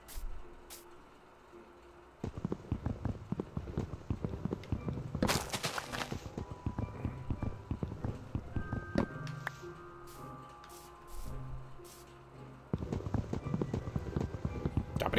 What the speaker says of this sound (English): Chopping down wood with a stick.